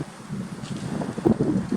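Strong wind buffets the microphone outdoors near flying pigeons, producing low rumbling gusts that swell and surge in short bursts.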